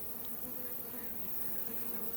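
Honey bee swarm buzzing continuously at close range, a dense steady drone with no break and no voices.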